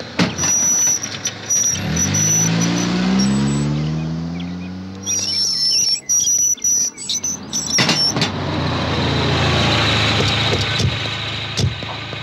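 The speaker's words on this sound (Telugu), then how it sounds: "లారీ సౌండ్ వచ్చింది." A lorry engine drones as the truck pulls in, its pitch rising and falling before settling into an idle. Birds chirp steadily in the background.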